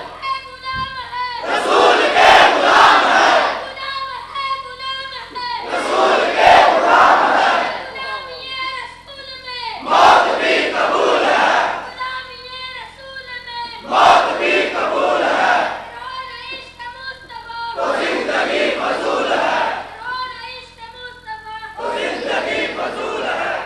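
A large crowd shouts a slogan back in unison, six loud roaring bursts spaced a few seconds apart. Between the bursts a leader's voice calls out over a steady hum from the sound system.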